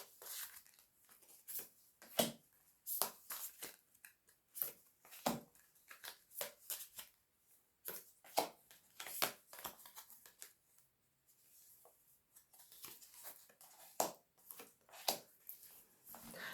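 Tarot cards are shuffled and handled in close, quiet bursts of riffling and sliding, irregular flurries separated by brief gaps, with no talking.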